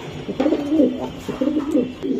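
Belgian-bloodline racing pigeons coo nearby in two clear rolling bursts, each a throaty rising-and-falling call, separated by a short pause.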